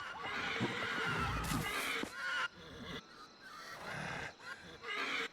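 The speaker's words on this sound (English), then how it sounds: "Get out of here, you horses!" Horses neigh and whinny in the video game Ancestors: The Humankind Odyssey, several loud shrill cries in bursts over about five seconds against outdoor ambience.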